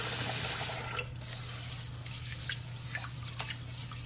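Water running and splashing over rice being rinsed in a bowl, a steady close trickle with a few small drips and sloshes, with no one talking.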